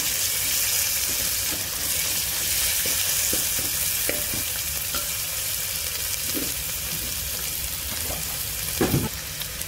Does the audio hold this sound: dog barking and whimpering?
no